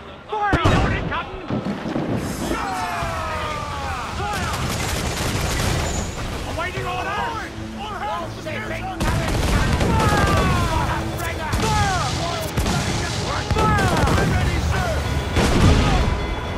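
Naval cannon broadside in Assassin's Creed IV Black Flag, heavy booms and rolling volleys of ship guns firing in waves, with shouting crew voices and game music layered throughout.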